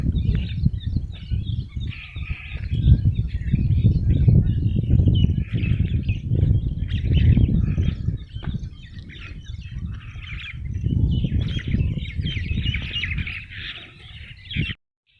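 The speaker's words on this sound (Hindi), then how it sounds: "और ये आगे पक्षी उड़ रहे हैं।" Birds chirp and squawk in an open farm field at sunrise, in scattered bursts over a low rumble of wind or movement near the microphone. The sounds fade away near the end.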